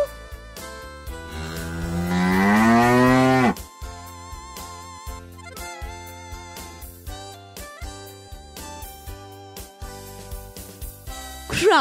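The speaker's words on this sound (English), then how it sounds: "Cow," A cow gives one long, loud, rising moo lasting a couple of seconds, followed by quieter farm ambience with scattered knocks and a faint second call at the end; no talking.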